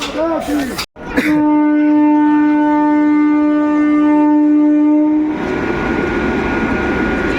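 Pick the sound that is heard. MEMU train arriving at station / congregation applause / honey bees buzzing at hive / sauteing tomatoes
MEMU train arriving at station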